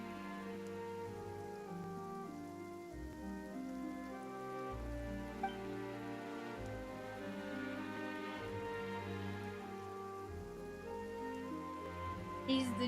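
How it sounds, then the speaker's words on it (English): Rain falls steadily in the video game Genshin Impact, a constant soft patter on surfaces that runs throughout under a sustained musical score. "now it's raining"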